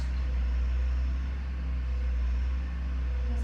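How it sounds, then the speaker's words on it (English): A loud delivery truck rumbles past outside, a steady deep engine drone holding for the whole few seconds with no talking over it. "There's a very loud truck outside, sorry about that."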